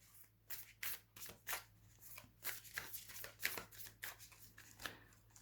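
Oracle cards shuffled by hand in a steady run of crisp riffling bursts, close and fairly quiet over a low steady hum, with no talking.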